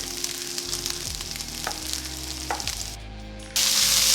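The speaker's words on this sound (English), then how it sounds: "Now I'm going to add 1 tablespoon of ginger garlic paste, and then add the green chili" Ginger garlic paste and green chili hit hot oil in a pan for a red lentil dal curry, giving a loud, close sizzle with a couple of brief stirring knocks before the hiss swells sharply at the end.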